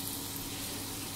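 Girolle mushrooms and lardons sauté in a pan for an omelette, giving a soft, even sizzle that stays steady and fairly faint.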